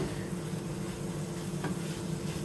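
Garlic cooking in a pan over medium heat for a turkey and vegetable dish: a soft, steady sizzle and hiss with a faint low hum underneath, quiet and continuous, with a brief scrape partway through.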